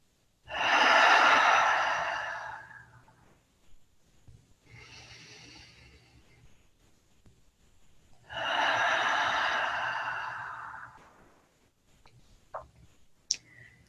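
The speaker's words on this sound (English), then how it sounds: "Taking 3 nice deep breaths here." Slow, deep breaths in a guided meditation: a long audible inhale-exhale, a softer breath, then another full breath, close and calm, followed by a couple of small clicks.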